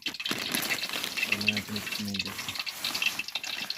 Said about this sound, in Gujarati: હવે એમાં થોડું પાણી નાખશું.